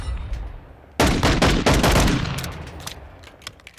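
A burst of full-auto pistol fire in Call of Duty Modern Warfare II, a loud rapid string of shots lasting about a second and a half, then tapering echoes and a few scattered later pops.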